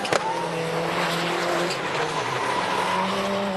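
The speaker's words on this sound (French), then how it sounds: "Regardez où il freine, Kimi Hansen, là-bas" A rallycross race car at the 2011 French championship round in Dreux brakes hard into a corner, tires squealing and engine roaring loudly and continuously with a brief sharp onset.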